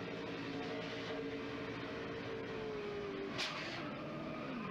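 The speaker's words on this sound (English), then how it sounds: "Listen to the engine." A NASCAR race car engine drones loudly and continuously during a race, heard from inside or nearby, with a brief sharp burst of noise near the end.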